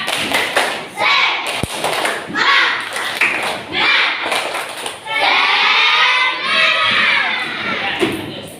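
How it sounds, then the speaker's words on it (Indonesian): A classroom of students in an Indonesian teaching-practice lesson does a spirit clap: quick rhythmic clapping bursts, then a sustained loud stretch of shouting and cheering from the whole group, close and lively. "Tepuk semangat"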